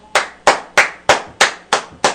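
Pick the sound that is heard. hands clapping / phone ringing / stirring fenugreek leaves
hands clapping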